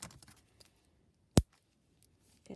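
A single sharp snip of scissors cutting into tightly wrapped packaging on a vintage journaling box, one loud crisp cut standing alone amid faint rustling and light clicks.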